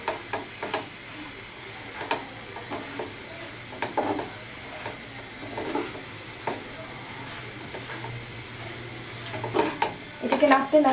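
A spoon stirs a carrot mixture with powdered milk in a pan, with intermittent scraping and soft knocks against the pan over a faint background hum, and busier clattering near the end.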